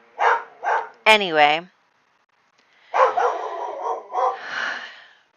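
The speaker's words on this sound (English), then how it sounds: "These dogs, I swear. I don't know if you can even hear her barking." A dog in the next room barks out a window, a few short yips mixed with a whining cry, heard close to and between stretches of talking.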